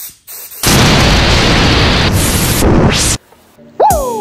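Automotive clear coat sprayed from a paint spray gun during car painting, heard as loud sustained bursts of hissing air with short pauses between passes, followed by a brief squeak at the end.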